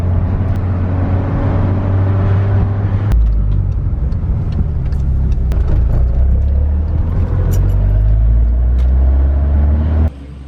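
A Mk6 Golf R with a catless SPM turbo-back exhaust cruises through a neighborhood, giving a steady loud low exhaust drone with shifts in tone as it changes speed, heard close throughout.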